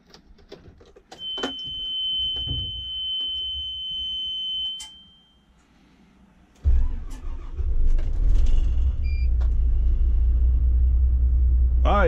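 A car engine cranks after a failed start, then catches and settles into a steady low idle rumble, with a high electronic beep or chime sounding at times and faint voices nearby.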